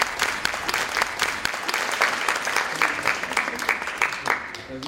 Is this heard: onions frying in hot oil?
no